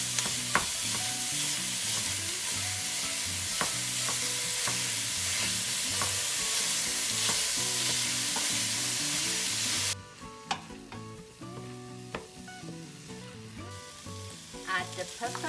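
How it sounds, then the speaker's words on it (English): Ground turkey and chilli ingredients sizzle and brown in a pan while being stirred and broken up, with scraping, clinking utensil strokes over a steady frying hiss that drops away near the end, leaving sparser stirring taps. "mix it, break it in pieces so it really cooks well and brown with the rest of the ingredients"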